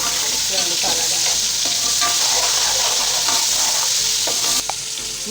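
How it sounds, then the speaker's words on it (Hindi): Spice mix tossed into frying tomatoes for a Kabuli chana pulao sizzles steadily, with a spoon scraping and stirring the pan in repeated strokes, close and loud throughout. "ये अब हम इसमें मसाला डाल रहे हैं"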